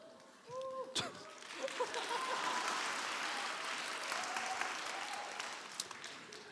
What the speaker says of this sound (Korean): 이 박수를 목표로 말한 겁니다.